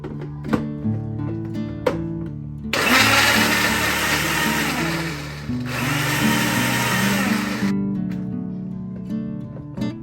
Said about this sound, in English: adding few pieces of mango and quarter cup of milk into blender jar and blend them into puree